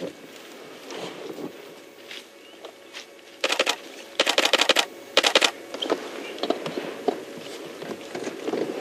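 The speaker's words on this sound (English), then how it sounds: "you hear that clicking. Don't worry, that's just me taking a few photographs." A camera shutter clicks repeatedly while photos are taken on a safari game drive. Sharp clicks come in quick bursts, some clustered together and some spaced apart, close to the microphone over faint outdoor background.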